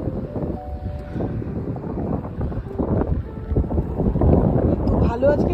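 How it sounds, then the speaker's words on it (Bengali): Strong wind buffets the microphone outdoors at a street fair, roaring in uneven gusts that swell louder toward the end, with a voice talking beneath it. "আর প্রচন্ড উইন্ড।"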